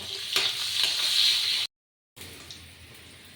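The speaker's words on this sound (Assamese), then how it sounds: "আলুখিনি মোৰ হৈ গ'ল ফ্ৰাই কৰা।" Potatoes fry in a pan with a bright, busy sizzle and some stirring scrapes. It cuts to silence for a moment, then returns as a quieter, softer crackle.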